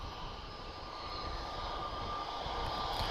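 An Airbus A321 long range airliner at Lisbon Airport gives a steady, fairly faint jet engine roar that builds slightly over a few seconds, heard from a distance with no voices.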